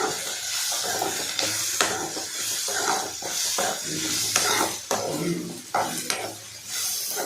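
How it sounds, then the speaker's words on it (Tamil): Bitter gourd sautés in oil for a Tamil pagarkai kulambu, with steady soft sizzling and hissing broken by repeated scraping stirs against the pan. "பாவக்காய் எண்ணெயிலே வதங்கட்டும்."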